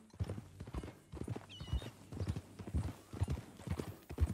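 Horse hooves clip-clop at a steady walking rhythm in Red Dead Redemption 2, close and fairly quiet, with a short whinny partway through.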